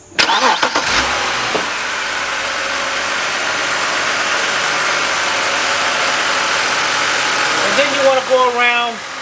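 A BMW 5 Series with a newly replaced upper radiator hose cranks briefly and catches, then settles into a steady, close idle. The engine runs loud and even for several seconds before a rising whine near the end.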